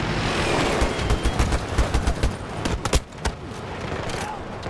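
Gunfire from the first-person shooter Battlefield 2042, dense bursts of rapid shots and sharp cracks over a busy battle din, loudest early and thinning toward the end.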